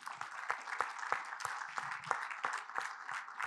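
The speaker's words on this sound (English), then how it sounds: "let's give her a round of applause" Audience applause at an industry summit, a moderate crowd clapping steadily with distinct sharp claps repeating throughout, heard at a moderate distance with no voices.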